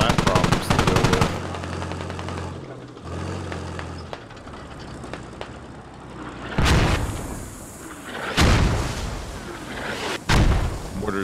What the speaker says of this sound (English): Mortars landing on the MTLB hold position